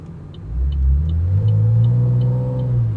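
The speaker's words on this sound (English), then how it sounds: "I think this is maybe an aftermarket exhaust that he has on there, like a very quiet version one, but it doesn't sound like stock." A Camaro with an aftermarket exhaust pulls away close by, its deep rumble rising steadily in pitch as it accelerates through one smooth, loud pull, with a faint periodic ticking above.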